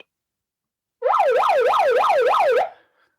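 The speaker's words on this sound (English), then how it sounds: "Nathan, sound the alarm." A wailing siren rises and falls in steady, rapid cycles for about a second and a half, loud and close, then cuts off into silence.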